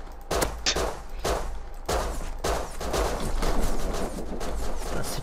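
Rapid bursts of gunfire in the survival video game Rust, loud and close, firing in several volleys with brief gaps between them.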